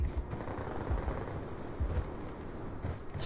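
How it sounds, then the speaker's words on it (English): Rapid automatic gunfire in Black Ops 2 comes in short recurring bursts of booming shots, dense and fairly loud, with no talking over it. "A lot of recoil there. A little bit of hip fire action there."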